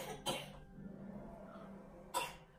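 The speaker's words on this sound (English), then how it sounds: "she's watching me while she coughs" Two short, harsh coughs separated by a quiet pause, close by and fairly soft.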